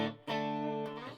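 A Squier 2003 Stratocaster played through an Orange TH30 amp with a reverb pedal: two clean strummed chords ringing out with sustained harmonic tones and a soft reverb tail, heard alone.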